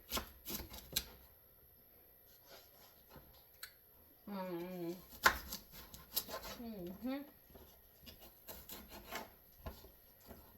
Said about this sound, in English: I'm just cutting them up into some nice little bite-sized chunks